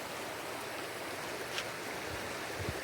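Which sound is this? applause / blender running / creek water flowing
creek water flowing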